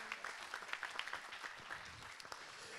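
Audience applause for startup contest winners called onto a stage at Web in Lorient 2015, a steady, moderately distant wash of clapping with no one speaking over it.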